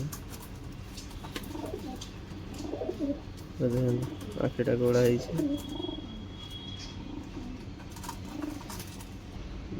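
Desi Giribaz pigeons coo in soft, low rolling phrases close by, with someone talking over them and light background noise.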